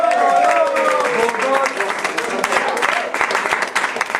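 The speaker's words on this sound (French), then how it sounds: "vous pouvez l'applaudir" A French slam poetry audience claps continuously and loudly for a performer for several seconds, a dense wash of clapping with some crowd noise mixed in.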